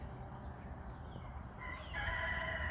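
A rooster crows faintly in a residential neighborhood, a drawn-out call rising partway through over steady outdoor background noise, with no talking.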